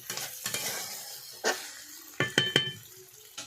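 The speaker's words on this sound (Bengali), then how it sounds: "এলাচ দিয়ে এইভাবে কিছুক্ষণ আবার কষে নিলে" Chicken curry with cardamom being stir-fried in a pot: intermittent spoon scrapes and clinks against the metal over a low sizzle, several distinct strokes close by.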